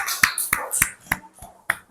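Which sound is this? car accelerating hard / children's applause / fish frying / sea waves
children's applause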